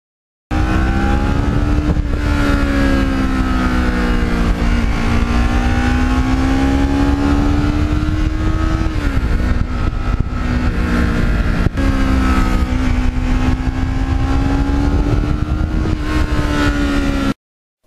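A black and gold Kawasaki Ninja motorcycle with 32,000 miles rides along a road, its engine droning steadily and loudly throughout, the pitch rising and falling gently with throttle changes and one brief dip near the middle.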